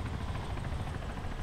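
A helicopter in the Arma 3 video game flies behind the players, giving a steady, low, throbbing rotor drone at moderate level with no voices.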